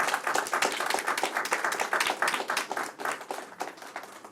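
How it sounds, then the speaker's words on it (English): An audience at a board meeting gives a round of applause for new members of an Eastern Star chapter, a dense crackle of many clapping hands, loud at first and gradually thinning out. "Will you please give them a big, huge round of applause?"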